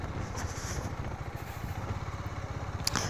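A motorcycle engine runs steadily while riding along a rough rural back road, a continuous low mid-pitched drone with faint wind and a brief rattle near the end, no voices.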